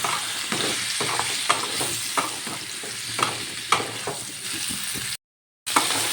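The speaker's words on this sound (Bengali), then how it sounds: "আলুগুলো একটু নুন হলুদ দিয়ে ভেজে নিচ্ছি" Boiled, peeled potatoes fried with salt and turmeric, popping and hissing in hot oil while a spatula stirs and scrapes in steady strokes, close and loud, with a short silent break near the end.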